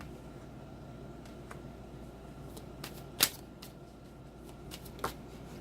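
A tarot deck being shuffled by hand makes soft, faint riffling and clicking, with a couple of sharper snaps as cards slip loose and fall from the deck.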